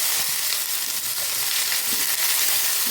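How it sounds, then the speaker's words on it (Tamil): Onions frying in hot oil for an avarai paruppu kuzhambu, a loud, dense crackling sizzle filling the whole stretch with soft stirring scrapes underneath. "இப்போ வெங்காயம் போட்டுக்கலாம்"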